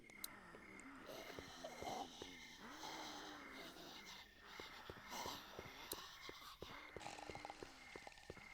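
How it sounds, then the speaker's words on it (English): An unseen creature breathes in The Walking Dead video game: slow, raspy, snore-like breaths repeat steadily and faintly over a low ambient hum. "I think I can hear something breathing in this area."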